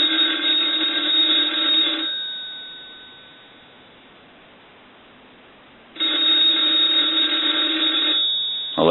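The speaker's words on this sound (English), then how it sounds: "So we'll go ahead and ring the telephone." An electronic ring from a Northern Electric three-slot payphone sounds in two long bursts with a pause between them, loud and close, with no voices.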